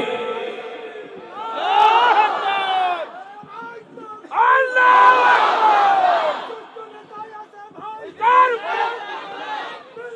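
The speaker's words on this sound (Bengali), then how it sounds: "একটু তাকবীর দিতে পারবেন দাঁড়িয়ে তাকবীর দেওয়া যাবে" Large crowd at a stage program in Jashore shouting takbir together in loud bursts of massed voices, roughly three separate waves of chanting with quieter gaps between.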